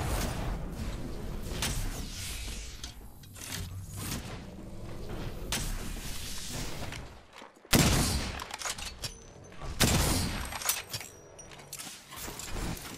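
Sustained gunfire in a console shooter game, a dense, noisy exchange of shots with a few sharp, heavy bangs standing out midway and near the end, loud throughout with no voices.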